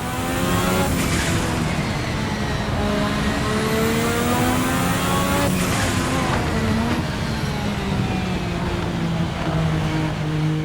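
A 1986 RSS analog Formula One car, a 1,200 horsepower flame-throwing machine, roars loudly and continuously at high revs on track, its engine pitch rising and falling through gear changes without a break.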